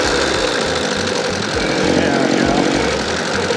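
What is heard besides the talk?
go-cart engine running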